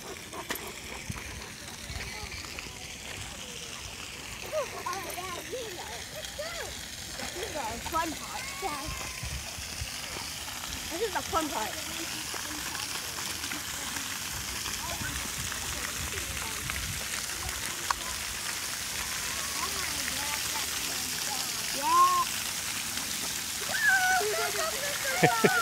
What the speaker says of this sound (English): Hey, Drex, let's go see the fountains.